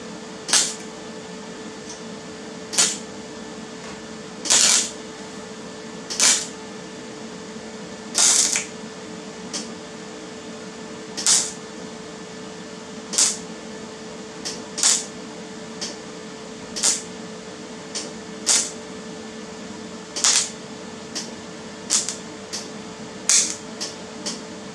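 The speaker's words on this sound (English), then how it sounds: "Getting that welded up." Short bursts of welding on a rust repair patch for a Toyota Hilux hiss and crackle at irregular intervals, each burst brief and sharp against a steady low background hum.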